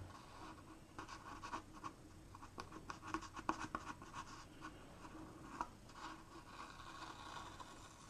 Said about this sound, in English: Now that I can take this tape up here now.